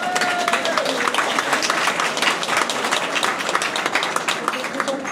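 An audience applauds steadily, a dense patter of many hands clapping throughout, with a faint voice briefly under it.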